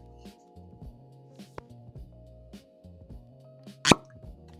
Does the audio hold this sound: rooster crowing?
no